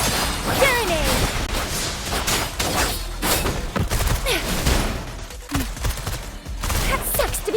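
A grenade explodes amid a dense burst of gunfire, crashes and thuds in the video game Wuthering Waves, with loud combat noise throughout and a voice heard intermittently.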